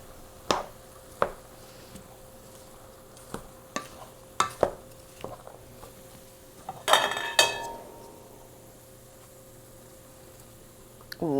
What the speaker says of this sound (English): Okay, and then over here I have some cilantro. Okay, give that a mix.